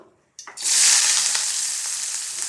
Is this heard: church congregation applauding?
no